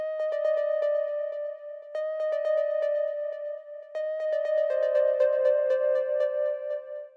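Arturia Mini V3 synth preset with the filter cutoff lowered slightly, played alone: short bright plucked accent notes in a quick rhythmic pattern over a sustained tone, steady and close, no voices.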